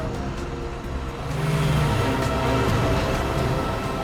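A car drives by on a road out of Goa during a police pursuit, its engine noise rising and holding steady and loud throughout, with no speech over it.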